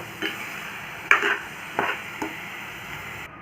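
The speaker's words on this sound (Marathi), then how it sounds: "ही भिजत घातलेली चण्याची डाळ पण आपण इथे टाकून घेऊ आणि हे छान पूर्ण मिक्स करून घेऊ" Padval (snake gourd) bhaji with soaked chana dal being stirred in a pan, four distinct scraping stirs spaced over a few seconds above a low steady background hiss, fairly close and unaccompanied by talk.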